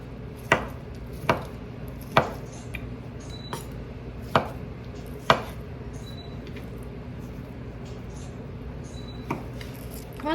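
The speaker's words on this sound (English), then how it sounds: "And then I'm going to slice this too." Knife slicing food on a cutting board in a home kitchen while cooking Filipino food, with sharp, separate chops spaced about a second apart, close and moderately loud, then sparser cuts over a quiet room.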